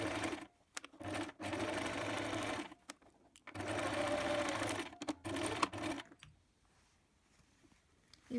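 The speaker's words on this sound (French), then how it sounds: "Vous allez coudre à 1 cm du bord." A sewing machine stitches scrap fabric strips together for a large tote bag, running in several steady buzzing bursts separated by brief stops, close but moderate in level, then falling quiet near the end.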